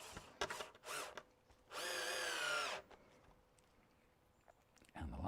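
A power drill drives hot-dipped galvanized screws outdoors in a garden project, with several short whirring bursts followed by one longer, steady run, each separated by quiet pauses, fairly close by.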